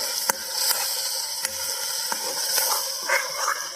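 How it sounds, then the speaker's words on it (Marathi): A ginger, garlic and coconut paste with tomato roasts in a pan over a wood-fired stove, giving a steady close hiss and sizzle with faint crackles and pops. "आता हे चांगलं भाजून घ्यायचं"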